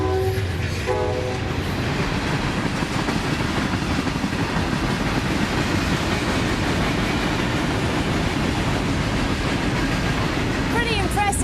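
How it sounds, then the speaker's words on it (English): A long train rolls past on a railway track, loud and close, with a steady rumble and rhythmic clatter of wagons that continues throughout, joined near the end by a brief horn. "That's the longest train I've ever seen."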